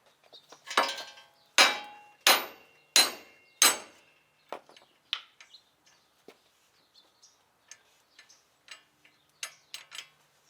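Five loud, sharp metallic hammer strikes drive the wheel studs out of a Mitsubishi Lancer Evo 8 hub at a steady pace. Lighter taps and clinks follow, quieter and more scattered.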